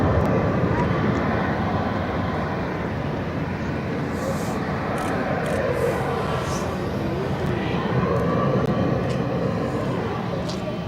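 An Emirates airliner taking off at Barcelona airport, a loud continuous jet engine roar that stays steady and broad throughout, with faint thin clicks scattered over the top.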